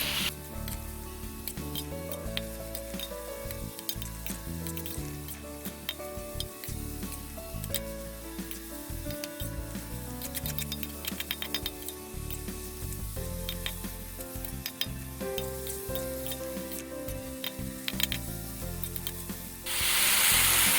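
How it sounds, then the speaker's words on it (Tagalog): Baguio beans stir-fried with beef in a pan over raised heat, a loud steady sizzle with frequent clattering scrapes of the spatula against the metal, close up with no voices. "Tapos hahaluin lang natin ng hahaluin hanggang sa maluto yung ating Baguio beans."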